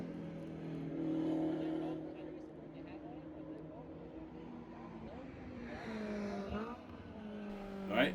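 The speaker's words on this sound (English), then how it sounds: "watch some of the other cars race around the track" Race cars circling the track at Palmer Motorsports Park in Massachusetts, engines droning at a distance with rising and falling pitch as cars pass, then a louder pass near the end.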